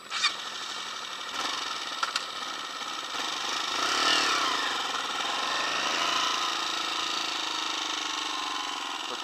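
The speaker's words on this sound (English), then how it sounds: "get your bike started and off you go, please" A motorbike on a CBT cone-training course starts up and pulls away, its engine note rising into a steady mid-pitched drone that holds through the clip with no talk.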